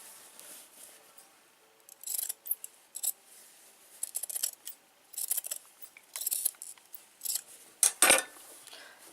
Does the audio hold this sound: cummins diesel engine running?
no